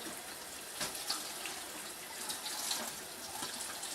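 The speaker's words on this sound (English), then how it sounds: "All I'm doing is running water through this tubing so it's going to be nice and clean." Water runs through home brewing equipment tubing while it is cleaned, a continuous splashing, hissing flow with a few small clunks, close by and alone without talk.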